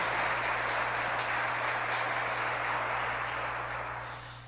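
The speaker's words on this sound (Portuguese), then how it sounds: "Dê um aplauso a Jesus e glorifique o nome dele" A church congregation applauding together, a dense wash of many hands clapping at a moderate distance that fades slightly toward the end.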